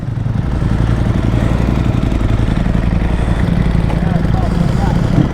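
A Ducati Panigale V4 SP2 sport motorcycle warms up nearby, its engine holding a loud, steady, rumbling idle with no revving throughout.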